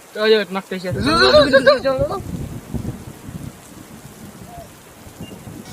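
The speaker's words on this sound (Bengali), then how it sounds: "রাম বৃষ্টি নামছে রে" Rain patters steadily on a surface, heard most clearly once a burst of overlapping voices at the start fades away.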